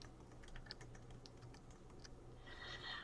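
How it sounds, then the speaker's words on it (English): Steady typing on a computer keyboard, a quick run of soft close-up key clicks with brief pauses, heard alone against a quiet room. "Let me just type that in."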